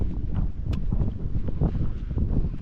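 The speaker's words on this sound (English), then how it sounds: "It's very windy" Strong wind on a hillside at Alport Castles in the Peak District buffets the microphone in a constant low, roaring rumble, gusting unevenly without pause.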